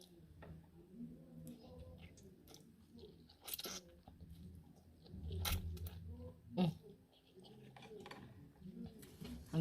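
Someone chews ramen noodles and shrimp close to the mic, with soft wet mouth sounds, slurps and occasional crunchy bites, fairly quiet and intermittent with small clicks between.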